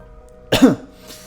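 A single harsh cough bursts out close by after a quiet stretch, followed by faint room noise.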